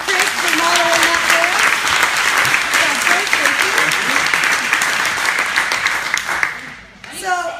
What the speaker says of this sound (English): Let's give a round of applause for Chris for modeling that